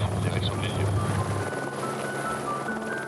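A helicopter registered Romeo Delta throbs and whines as it lifts off toward Île d'Yeu on the Vendée coast. The loud rotor and engine noise is steady and close, with talk over it.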